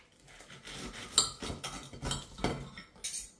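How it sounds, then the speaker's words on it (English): Knife cutting through crispy jumbo sausages on a board, a series of close clinks and taps against the cutting surface and utensils, irregular and moderately quiet. "Right, let's get them chopped in half."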